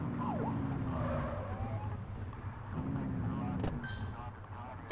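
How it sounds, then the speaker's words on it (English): A police car siren in the video game The Precinct wails steadily in rising and falling sweeps over continuous engine rumble, loud and close, with brief sharp bursts near the end. "Get on their tail and flip the siren."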